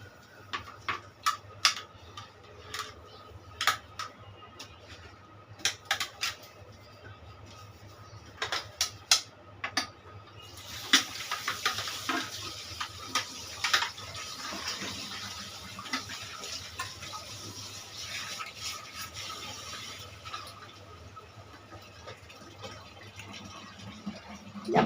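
Pots and dishes clink and knock under a kitchen tap, scattered sharp clatters at first, then a steady rush of running water over the pans, close and fairly loud, no voices.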